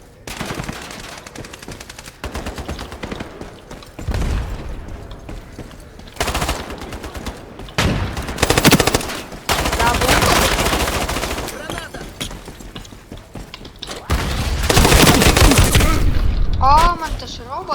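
Gunfire in the video game Ironsight: loud bursts of automatic fire and single shots come in repeated clusters separated by brief pauses, with a voice talking in places between them.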